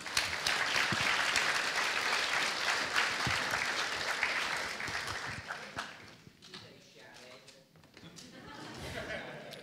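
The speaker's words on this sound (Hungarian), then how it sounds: "Gratulálok, taps!" Audience applause following a speaker on a Hungarian talk programme, a dense burst of clapping that gradually fades and thins out, with voices and light chuckles mixed in.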